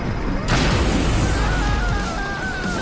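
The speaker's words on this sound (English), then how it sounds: "Explosions." Explosions go off in the Xbox One video game Screamride, a loud, dense crash and boom that bursts in after a brief lead-in and keeps rumbling with debris clatter throughout.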